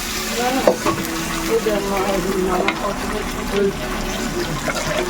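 Ginger, onion and cumin fry in a pan for a chicken dish, giving a close, steady sizzle with stirring clatter. Voices talk over the cooking.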